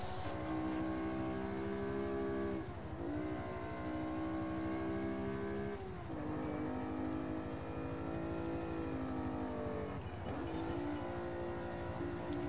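A Fiat Dino engine driving in Forza Horizon 5, a loud continuous drone with pitch rising through each gear and dipping at three shifts, no talk over it.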